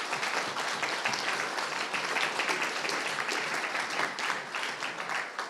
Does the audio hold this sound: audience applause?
yes